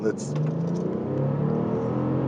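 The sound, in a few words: 2008 Bentley Continental GT Speed accelerating in sport mode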